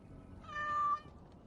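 A cat meows once in the Dragon Age: Origins – Awakening video game, a single short, clear, near meow against a quiet background with no talk.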